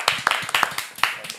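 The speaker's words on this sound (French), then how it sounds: "Donc on va t'applaudir parce que t'es là aussi." A small group on a French tech-show set claps briefly, giving a quick run of sharp, close handclaps for about a second.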